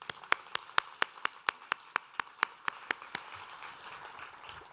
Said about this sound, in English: How about a round of applause for all the people that have presented so far?